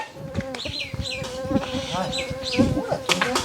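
Mosquitoes swarm indoors with a dense, whining buzz that rises and falls in swooping pitches close by. Scattered thumps and muffled sounds mix in beneath the buzzing.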